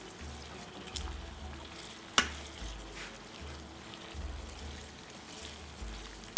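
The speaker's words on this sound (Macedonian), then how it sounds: "Сега треба да го фати врелото масло и сувото димено месо" Smoked dried meat frying in hot oil for podvarok, a steady crackling sizzle throughout with a sharp clatter near the middle; no one speaks.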